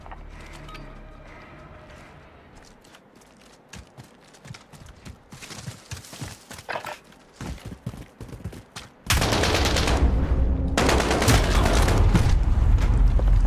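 Rapid gunfire from a Call of Duty Modern Warfare multiplayer match rings out in bursts of sharp cracks. Dense, loud automatic fire and explosions then take over near the end.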